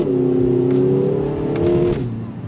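A 2023 Kia Forte GT accelerates hard, its engine note rising steadily in a loud, sustained pull close by, then dropping briefly near the end as if shifting.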